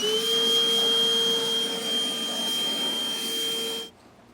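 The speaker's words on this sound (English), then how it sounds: "Now we can vacuum" A shop vacuum cleaning drilling debris out of a 2015 Ram 1500 truck bed while a fifth wheel kit is installed: a loud, steady whine held close for about four seconds, then cut off.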